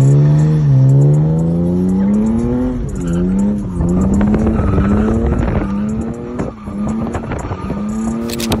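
A BMW E36 drifting, its engine revving up and down in long wavering sweeps while the tires squeal, loud and close with no talking.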